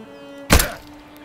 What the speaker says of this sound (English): I'm gonna shoot a little bit lower.